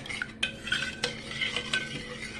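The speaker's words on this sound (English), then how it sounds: "then you're going to stir that up really well" A canned soup mixture is stirred in a bowl, the spoon scraping and clinking against the sides in a run of close, quick strokes with a few sharper taps.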